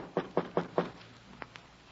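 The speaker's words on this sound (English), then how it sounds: "When I got to 729, I knocked." Four firm knocks on a hotel room door, evenly spaced and close, followed by two lighter taps, staged as a radio drama sound effect with no voices.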